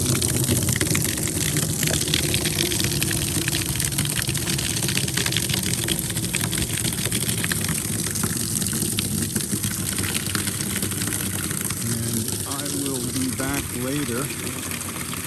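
Steady, loud pump drone and rushing water as a ranch water tank is filled, continuous for the whole stretch, with a voice talking briefly over it near the end.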